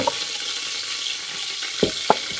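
Chopped onions fry in hot oil with curry leaves for a tadka, giving a steady close sizzle with a few sharp pops near the end.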